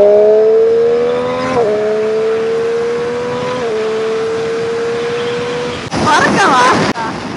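A Triumph Street Triple RS motorcycle engine revs up close in long, steady rising pulls, its pitch climbing slowly, then gives a sharp, loud burst of throttle near the end.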